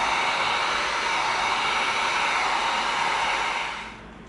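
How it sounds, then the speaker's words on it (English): A heat gun blasts hot air onto EVA foam with a loud, steady rushing roar that holds evenly for about four seconds, then tapers off as it is shut down. "now we got our heat gun going"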